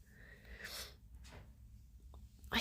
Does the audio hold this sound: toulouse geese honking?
no